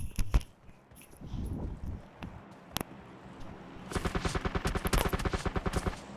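Gunfire in the battle royale game PUBG Lite, with a few isolated shots early on, then a near, loud rapid burst of automatic fire that rattles through the last two seconds, no talk.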